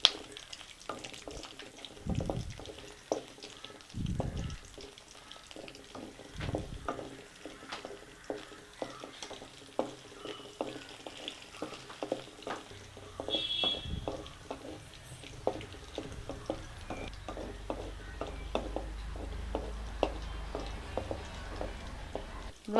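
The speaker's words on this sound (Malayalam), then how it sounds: "എണ്ണയൊഴിച്ച് 4 പച്ചമുളക്, 5 അല്ലി വെളുത്തുള്ളി, 6 വറ്റൽമുളക് ഇത്രയും വഴറ്റിയെടുക്കാം." Green chilies, garlic cloves and dried red chilies sautéing in oil for a peanut chutney, giving a soft, continuous sizzle broken by frequent sharp clicks and scrapes of stirring, with a few low thumps, all fairly close.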